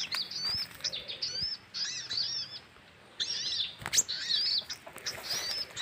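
A freshly caught kemante bird (sogon) gives repeated high, thin chirps in quick bursts, close and fairly clear, with brief pauses between calls and a short quiet gap in the middle.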